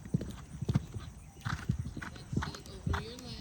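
A Thoroughbred canters on the ground toward a jump, its hooves thudding in a steady three-beat rhythm with snorting breaths between strides, close by and fairly quiet.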